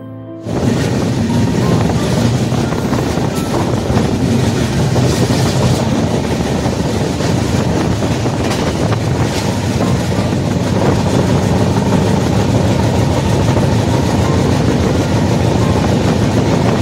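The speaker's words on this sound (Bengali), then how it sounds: "এবার আমাদের ট্রেন এসে পৌঁছে গেল নাগরাকাটা রেলওয়ে স্টেশনে" Sikkim Mahananda Express (15483) running on rails between Alipurduar and Siliguri, with a loud, steady rumble and rhythmic clickety-clack of train wagons throughout, no talking.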